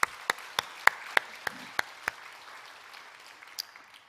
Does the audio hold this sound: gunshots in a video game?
no